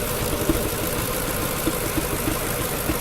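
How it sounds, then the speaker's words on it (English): A 2002 Mercedes S430 engine idling while misfiring: a loud, steady rumble up close, broken by irregular small pops and knocks roughly every half second. "it is still misfiring. I've got a little bit of popping going on there."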